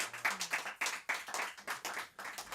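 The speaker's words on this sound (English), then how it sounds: "Another round of applause for Trey Xavier" A small audience at a spoken word and poetry event claps for a performer, distinct bursts of hand claps in an uneven rhythm, close and clear.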